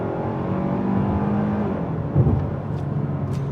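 A 2026 Hyundai Sonata SEL Sport's 2.5-liter naturally aspirated four-cylinder pulls hard at full throttle from a standstill, a loud steady drone heard from inside the cabin with a brief bump partway through.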